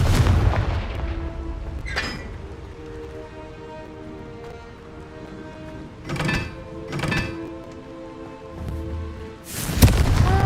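Several explosions from the Confringo spell in Hogwarts Legacy burst over a low ambient game soundscape, the sharp blasts spaced irregularly with the loudest arriving near the end.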